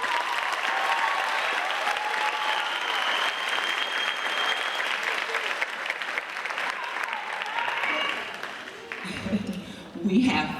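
An audience at an eighth grade bridging ceremony applauds students in a steady, full burst of clapping with some cheering, lasting several seconds before it thins out and a voice begins speaking.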